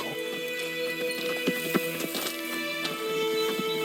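Steady clip-clop of horse hooves trotting at a brisk pace in The Witcher 3 on PC, each hoof strike a sharp tap over a constant backdrop of game music.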